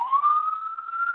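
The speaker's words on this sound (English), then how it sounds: "there's the sirens going on" A single siren wails outdoors, a steady clear tone that slowly rises in pitch over about a second, with no talk over it.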